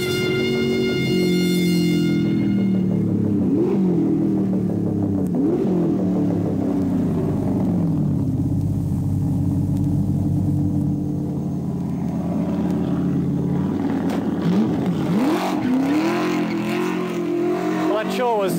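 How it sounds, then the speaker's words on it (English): Ford touring race car, a Tru Blu Mk II Falcon-style V8, accelerating hard out of a braking area on circuit, a loud continuous engine roar with rising and falling revs and gear changes, while a commentator talks over it throughout. "The torque, big torque of the Ford engine pulls out of there extremely well."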